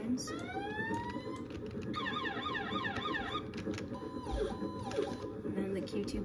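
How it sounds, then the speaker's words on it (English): Wailing and yelping electronic sirens on a tanker vehicle in the video game Maple County cycle through several patterns, loud and continuous over a steady engine rumble, with a short horn-like burst near the end. "Turn on the sirens."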